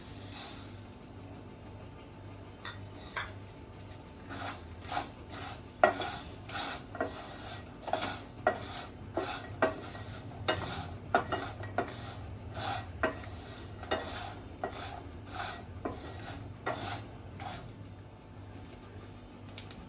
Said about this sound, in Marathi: हे बघा असं तिलाचा कुटकुट असा आवाज आला ना तिथपर्यंत आपल्याला भाजायचं आहे